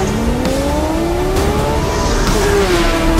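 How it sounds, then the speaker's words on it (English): A Porsche Carrera GT racing-derived engine revs hard and loud, its pitch rising steadily in a continuous howl with a brief shift partway through. "The racing engine."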